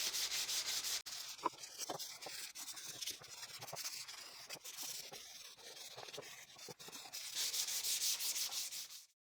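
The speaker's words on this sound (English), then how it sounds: "I'll do another sanding, this time manually using 220 grit sandpaper" 220-grit sandpaper rubs back and forth over pine wood by hand in steady, close strokes, a dry, scratchy rasp with brief pauses.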